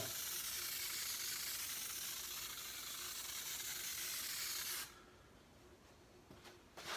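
A steady, loud aerosol hiss from a spray paint can used on wooden ramps, running continuously for about five seconds before cutting off, followed by quieter background rustles.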